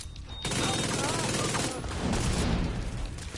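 Sustained gunfire fills a firefight in The Division 2, a dense run of rapid shots continuing without a break at steady loudness, with some talk mixed in.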